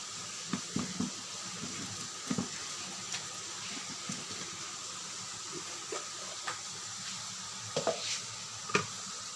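Tomatoes fry with turmeric powder in a pan, a steady soft sizzle running throughout while a utensil scrapes and stirs in scattered taps and clinks, fairly close and moderately quiet, with no talking.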